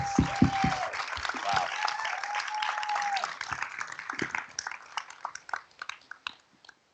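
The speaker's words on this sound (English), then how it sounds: "Huge round of applause" Audience applause at an awards ceremony for a disability film challenge: a dense round of clapping that thins into scattered, sparser claps after a few seconds, with a faint tone ringing underneath early on.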